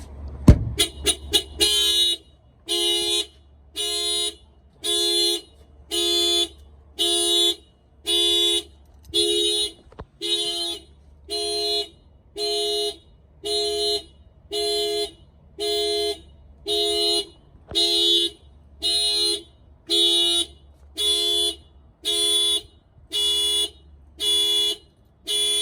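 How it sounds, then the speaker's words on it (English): A 1994 Toyota Supra's alarm fires off after a few quick initial chirps, then blares a loud, regular pulsing electronic tone in evenly spaced bursts, each about a second long, repeating steadily close by. "The alarm will fire off."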